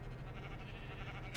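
Sheep on a Minecraft sheep farm in a video game, one short bleat heard close and moderately loud, alone without talk.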